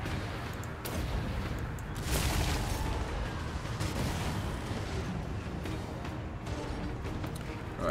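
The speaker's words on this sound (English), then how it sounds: "Get the artillery to stop now." Artillery bombardment in a Total War battle with Clan Mors, a dense, continuous wash of booms and distant gunfire rumbling through the whole stretch with several sharper blasts standing out, steady and loud without talk.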